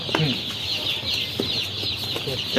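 Chickens at a poultry farm cluck repeatedly at close range in short, uneven bursts over a constant background hum.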